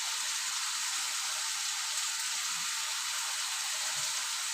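Sliced bitter gourd sizzles steadily in a hot pan, a dense, even hiss of frying with no talk over it.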